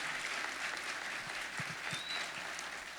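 A church congregation in Fortaleza claps steadily, dense continuous applause at moderate distance that stays even for a few seconds, with no voices rising above it.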